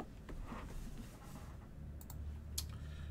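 A computer mouse clicks a few times, sharp isolated ticks around the two-to-three-second mark, over a low steady room hum during a live online baseball card break.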